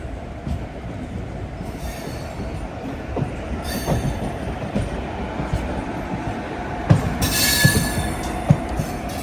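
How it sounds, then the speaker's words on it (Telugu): The MEMU train's wheels squeal as it takes a curve near Pondicherry, high shrill screeches rising over a constant rolling rumble from inside the car, with the loudest squeal late in the clip. "టర్నింగ్ కొడుతుంది బండి."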